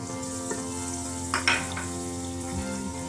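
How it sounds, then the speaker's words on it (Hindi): Fish curry masala frying in oil in a pan, a steady close sizzle with a few brief stirring scrapes, no voices. "भून लेंगे ताकि ये बिल्कुल ऑयल छोड़ दे और इसका पानी खुश्क हो जाए"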